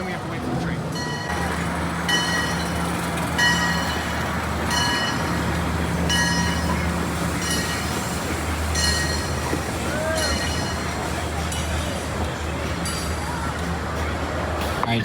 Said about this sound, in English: we have to wait for the train.